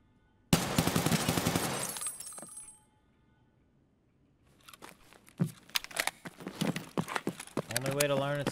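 Bursts of gunfire from Escape From Tarkov, a loud dense volley at the start, then a pause and scattered sharp shots and clatter, with a voice speaking briefly near the end.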